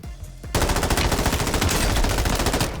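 Rapid automatic gunfire from the video game Warzone bursts in after a brief quiet moment, a dense, loud, continuous rattle of shots that keeps going to the end.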